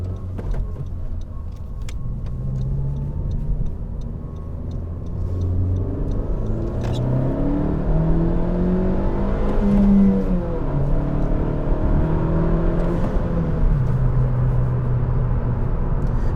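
A 2017 Honda Civic Si with about 100,000 miles revs hard while driving, its engine note climbing and shifting steadily through the gears, loud and close inside the cabin with a constant road rumble and no talking.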